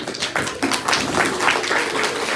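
A school audience at a maths quiz competition bursts into dense clapping for a correct answer, loud and close, with many overlapping hand claps forming a steady burst that lasts throughout.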